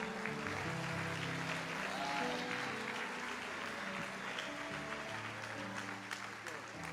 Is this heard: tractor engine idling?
no